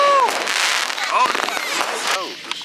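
Fireworks explode at a 4th of July party, loud cracks and crackling bursts in quick succession along with whistling shells, while people talk and shout over the blasts.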